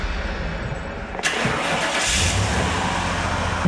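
A car stuck in a pothole has its engine fire up abruptly partway through, then rev steadily and loudly at close range.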